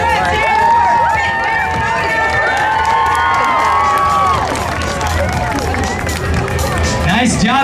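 Loud, sustained cheering and shouting from a crowd, children among them, after big dog Koda clears a 54-inch jump at a dog performance show, with babble and occasional applause mixed in.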